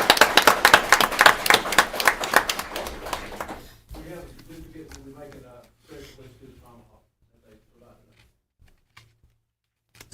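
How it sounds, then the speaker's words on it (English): A round of audience applause at a county school board meeting, brisk and fairly loud for about four seconds before cutting off as a speaker continues talking. "Let's give her another round of applause."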